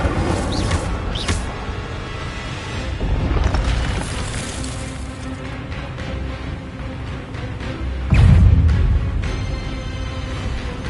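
Fire spell effects in the wizarding action game Hogwarts Legacy on PS5: a steady roar of crackling bursts and rumbling blasts, with a loud, heavy whoosh-boom swelling near the end.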